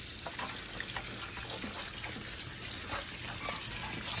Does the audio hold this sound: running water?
yes